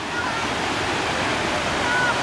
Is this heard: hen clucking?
no